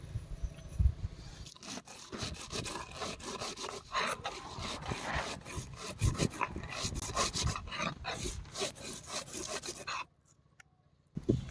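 Peeled garlic cloves crushed on a grinding stone, rough rhythmic scraping strokes back and forth, close and loud, ending in a short pause near the end.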